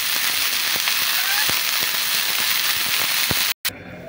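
Spring onion stalks roast in oil in a pan, a steady dense sizzle with scattered sharp pops and crackles, close and continuous, breaking off briefly near the end.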